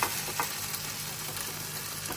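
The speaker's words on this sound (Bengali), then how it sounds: "লবণ দিয়ে ভিন্ডিগুলোকে একটু ভেজে নেব।" Okra pieces salted and frying in hot oil give a steady, close sizzle with a faint stirring scrape, continuous and fairly loud with no talking.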